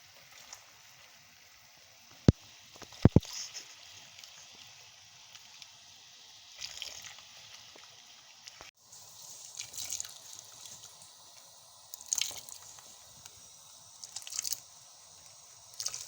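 Hot water poured and stirred into a Rooh Afza rose-syrup drink mixture, heard as faint, sparse splashes, trickles and drips against quiet background, with no talking.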